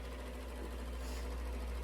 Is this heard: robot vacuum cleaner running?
yes